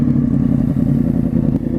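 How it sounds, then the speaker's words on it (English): A motorcycle fitted with a new Toast exhaust idles and revs close by, a loud, deep, throbbing engine note holding steady throughout with a few small surges. "I will present the Toast exhaust"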